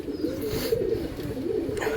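Champa pigeon, a white-headed male of show quality, cooing in a steady low murmur for two seconds, close and moderately loud, with no talk over it.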